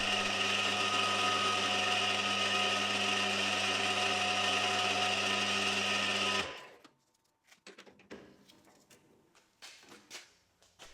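A metal lathe smooths a die holder part with a loud steady humming whine that cuts off abruptly partway through, followed by scattered quiet clicks and handling knocks; no talk.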